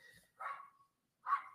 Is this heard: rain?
no